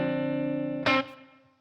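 An electric guitar chord runs through a Matchless Laurel Canyon amp capture on a ToneX with Softube TSAR-1 small-room reverb; a sustained distorted chord is cut by a sharp strum and rings out into a short decaying tail.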